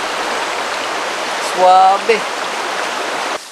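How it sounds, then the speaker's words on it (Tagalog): River flowing beside a campsite, a continuous rushing wash heard throughout, with a short spoken word briefly over it near the middle. "tabi-tabi natin yung ilog."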